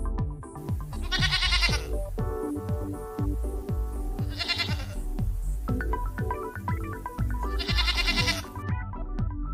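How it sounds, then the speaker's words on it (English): A goat bleats loudly several times in wavering, nasal cries, heard close against a steady low background with rhythmic thumping beneath, and no talking. "Goat."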